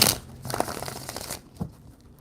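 Tarot cards are shuffled by hand in a brief burst of papery riffling and flicking, close and fairly loud at first, then trailing off into a soft tap.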